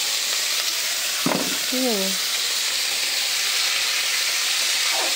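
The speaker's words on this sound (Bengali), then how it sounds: "এবার এই কাঁচা টমেটোগুলো ভাজবো, তার আগে এই যে আলুটা দিয়ে দিলাম।" Potatoes frying in oil in a wok seasoned with mustard seeds and green chilli, a loud continuous sizzle and hiss that runs throughout. A voice speaks briefly over it.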